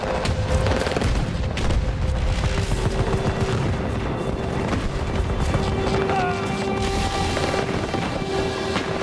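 A grenade blast in the Star Wars Battlefront video game, heavy booms and rolling gunfire layered in a dense, loud battle din that runs continuously throughout.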